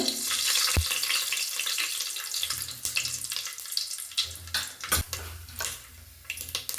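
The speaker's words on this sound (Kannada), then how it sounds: "ಎಣ್ಣೆ ಕಾದಿದೆ ಸ್ವಲ್ಪ ಸಾಸಿವೆ ಹಾಕೊಳ್ತೀನಿ ಇವಾಗ" Mustard seeds go into hot oil for a South Indian breakfast and fry with a close, continuous crackling sizzle, with sharp pops and clatters scattered throughout.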